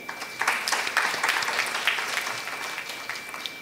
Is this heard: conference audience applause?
yes